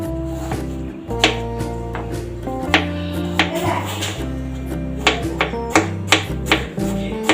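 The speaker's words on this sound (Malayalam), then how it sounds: "ആപ്പിൾ കട്ട് ചെയ്യാം കേട്ടോ" Peeled apple being chopped into small pieces on a cutting board for homemade Christmas falooda, a rapid series of sharp knife taps that speeds into a steady rhythm toward the end, heard over background music.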